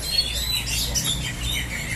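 An oriental magpie-robin (kacer) sings at a bird-singing contest, giving rapid high chirps and whistled notes in a steady stream over a low crowd murmur.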